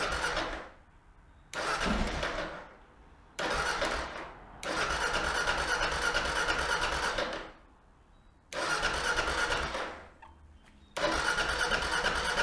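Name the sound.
Kawasaki KLR 650 motorcycle engine starting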